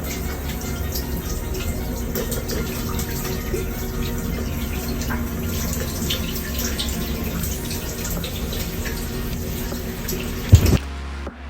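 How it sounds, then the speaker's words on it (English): Water runs and splashes continuously in a shower aboard a rocking cruise ship, a steady close wash of sound, with a brief clatter just before it cuts off at the end. "Standing in the shower, you can see the water slooshing back and forth across the floor of the shower."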